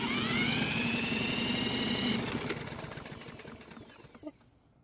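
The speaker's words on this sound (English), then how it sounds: "after spinning the engine over for about 5 seconds, we ended up with a reading of about 155 psi" A Toro lawn mower engine cranks over steadily for a compression test, a fast rhythmic chugging with a whirring starter tone that holds for about two seconds, then slows and fades, ending with a small knock.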